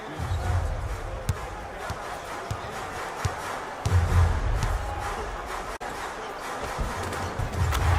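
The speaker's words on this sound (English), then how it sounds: "I'm hearing some boos from the crowd." Crowd noise from the arena in an NBA Live 19 video game basketball match between the Jazz and Mavericks, a steady loud roar with booing, over repeated ball bounces and squeaks.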